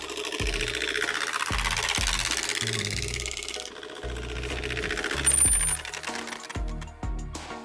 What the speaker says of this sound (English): the card will hit the spokes, creating a sound similar to a motorcycle engine